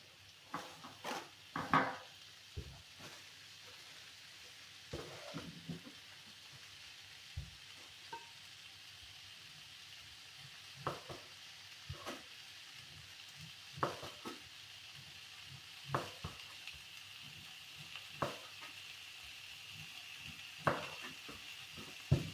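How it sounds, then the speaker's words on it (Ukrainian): Kulesha cooks with fresh pork in a pan, a quiet low sizzle running underneath while a utensil occasionally scrapes and taps against the pan in scattered, irregular knocks, close by and with no talk. "зараз гарненько посмажиться"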